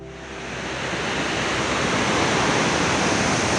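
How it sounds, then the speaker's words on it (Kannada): Unchalli waterfall on the Aghanashini river roaring in dense forest, a loud, unbroken wash of falling water that swells slightly at the start and then holds steady. "ನೋಡಿ, ಈ ಉಂಚಳಿ ಜಲಪಾತದ ಒಂದು ಬೋರ್ಗೆರೆತ ಯಾವ ರೀತಿಯಾಗಿ ಕೇಳಿಸ್ತಾ ಇದೆ"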